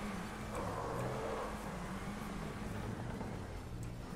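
A car in GTA V Online with a steady, faint engine drone that holds at a fairly constant pitch throughout, with no voices over it.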